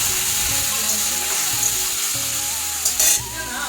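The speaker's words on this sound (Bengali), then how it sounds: "এখন সব মশলার আমি ভালো করিয়া বাজি নেব" Cumin and chilli powder frying in a pan with chicken and a little water, a loud steady sizzle with stirring scrapes and a brief hissing flare near the end, no voices.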